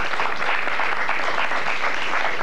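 An audience at a high school quiz bowl contest claps loudly and steadily in a dense, continuous burst of applause that lasts a couple of seconds.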